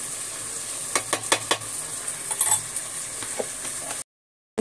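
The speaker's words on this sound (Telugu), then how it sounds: "మంచిగా ఫ్రై అయిపోయాయి కదా" Spices with coriander powder fry in a pan, giving a continuous sizzle with several sharp clinks and scrapes of a spoon stirring near the start. It ends abruptly in silence.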